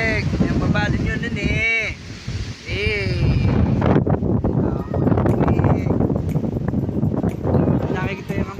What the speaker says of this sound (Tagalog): malakas na yung simoy ng hangin